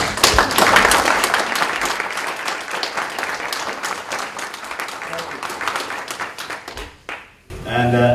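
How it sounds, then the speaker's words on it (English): An audience applauds to welcome a lecturer at a lecture event, strong at first and then steady, dying out near the end before a speaker's voice returns. "let's give him a round of applause to welcome the man"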